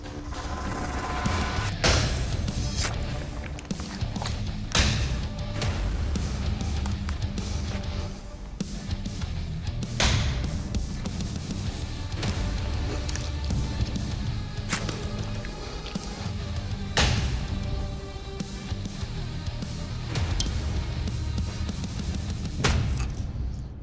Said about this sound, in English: I'm gonna take your weapon, deliver some lethal blows on this ballistics dummy